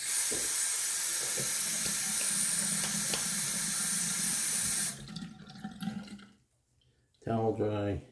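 Tap water runs into a bathroom sink during a wet shave with a Parker semi-slant razor, a steady close hiss and splash that stops, followed by a brief pause and someone speaking.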